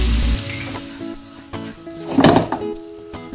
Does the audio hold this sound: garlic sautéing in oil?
yes